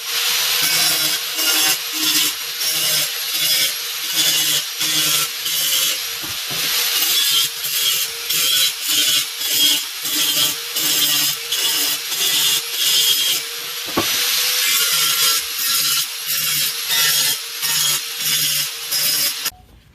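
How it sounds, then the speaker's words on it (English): An electric grinder with a grinding wheel works a car frame rail on a 1969 Mustang fastback, a harsh high grinding hiss in rhythmic strokes that surge and ease over and over, close and loud, with no talk. "let's get ready to start grinding"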